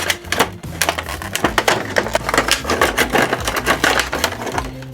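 Scissors or a blade snipping and cutting through the bands and plastic packaging of a Kylo Ren TIE Silencer Star Wars Micro Galaxy Squadron toy, a dense run of close, sharp clicking and crunching cuts with no talk.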